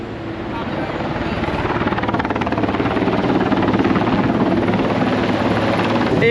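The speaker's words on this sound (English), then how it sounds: "this helicopter is just doing donuts around us right now" A search and rescue helicopter circles low overhead above a wilderness hiking trail, its loud rotor chop throbbing steadily and swelling as it draws nearer, with no speech over it.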